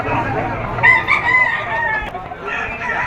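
Roosters crow at a gamefowl market in Lipa City, Batangas, with loud, close crowing rising over a busy background of clucking and faint talk.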